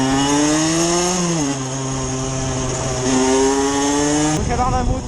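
A 50 cc MVT motorcycle engine revs hard and close, a loud buzzing two-stroke drone whose pitch climbs, dips as it shifts, then rises again before a short drop near the end.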